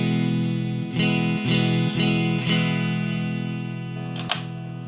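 An electric guitar played through an M-Vave Tank G pedal with the gain raised rings out in sustained, distorted chords, with several sharp re-strums and a final bright accent, loud and alone.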